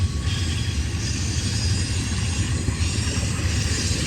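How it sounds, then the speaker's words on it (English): A Z freight train loaded with priority containers rolls steadily past at Sullivan's Curve, giving a continuous low rumble and hum with no break and no talk over it. "Looks like it's probably a Z train."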